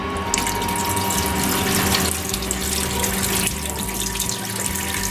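Steady loud rush of water running from a tap through a caravan's water pipes, continuous and close, with no one talking.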